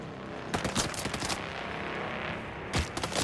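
Gunfire erupts in the Dune: Awakening game, several sharp bursts of shots in quick clusters, loud and close, with a pause before a final volley.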